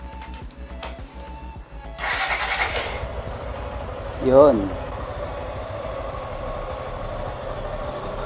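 A Suzuki Gixxer 155 FI motorcycle with a freshly replaced battery cranks briefly and catches, then settles into a steady low idle that continues to the end, with a short spoken word before it starts.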